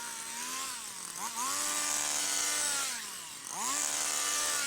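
A petrol hedge trimmer, the 94 model, cuts through a hedge, its engine droning loud and close with two dips in pitch where the load changes before revving back up.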